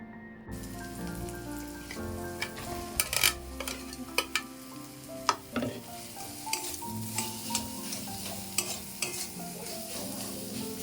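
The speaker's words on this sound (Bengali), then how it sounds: "পেঁয়াজটা ভাজা হয়ে গেলে রসুনগুলো দিয়ে দিলাম আর তারপরে রসুনটাও ভালো করে ভাজা হয়ে গেলে" Steady sizzling of onion and garlic frying in a pan, with repeated scraping and stirring clicks throughout, close up and with no voices.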